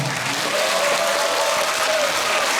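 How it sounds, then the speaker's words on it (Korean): Sustained applause from a concert audience at a cultural hall during a guest performance, a thick, even roar of many clapping hands, loud and continuous throughout. "관계자 여러분들에게 박수 한번 주세요"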